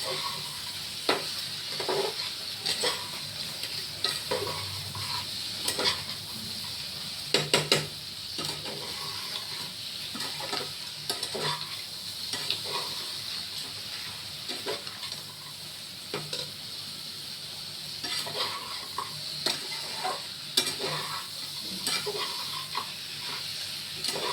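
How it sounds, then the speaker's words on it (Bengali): Potatoes and spices stir-fry in a pan, a continuous sizzle broken by irregular scraping clatters of the spatula as the mixture is turned, close and moderately loud throughout. "কষাতে কষাতে মোটামুটি সব সিদ্ধ হয়ে যাচ্ছে"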